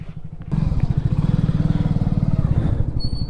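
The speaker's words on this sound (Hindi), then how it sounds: "मस्त तरीके से बाइक को स्टार्ट रहने देते हैं।" A motorcycle engine starts and settles into a steady, loud idle close by, with a rapid even thumping pulse and a brief clatter as it fires up.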